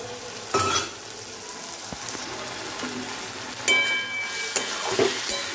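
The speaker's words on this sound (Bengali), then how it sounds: "আবার ভালো মতো নেড়ে নিচ্ছি" Tomatoes and green chilies fry in a pan with a continuous crackling sizzle, punctuated by occasional spatula knocks and scrapes as the mixture is stirred.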